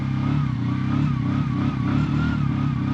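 A motorcycle engine runs rough in freezing cold, a steady low, throbbing idle with a wavering rev line that strains and pulses for three seconds, close and without talk.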